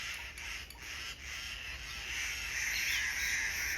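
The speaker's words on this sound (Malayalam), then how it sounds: "ഉള്ള കിളികളെല്ലാം വന്നിട്ടുണ്ട്." Several crows caw outdoors after rain, harsh repeated calls at a moderate distance over a constant background hiss, with no voices.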